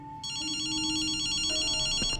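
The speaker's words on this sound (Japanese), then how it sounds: "電話だぜ。" A telephone rings in the video game Ghostwire: Tokyo, a bright electronic trilling ring that sounds steadily for about two seconds, loud and alone with no talking.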